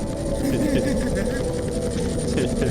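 A helicopter in the Roblox video game gives off a continuous whirring rotor drone, steady and fairly loud, with people talking over it.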